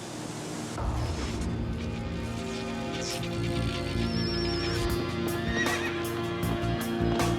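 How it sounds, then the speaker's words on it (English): Wild horses wander along the shoreline of an expanding sea. Hooves clip-clop and a whinny rises over a steady background bed of music or ambience, with no talking. "On the new shoreline of the expanding sea wanders a pack of wild horses"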